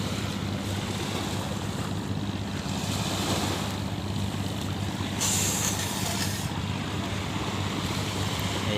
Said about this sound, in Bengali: এই যে সামনে পুরোটাই সাগর। এটা কক্সবাজারের একটা মোহনা